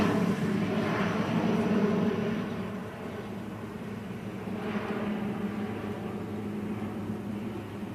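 Airliner departing Manchester Airport's runway 23L in the early morning, a broad steady engine roar at moderate distance, swelling slightly then holding, with no voices over it.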